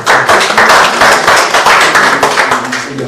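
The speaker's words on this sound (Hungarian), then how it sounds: "Szerintem egy tapsot előre is már." Applause at a 90th birthday celebration in a retirement home, a close, loud, steady patter of many hands clapping together with no voices.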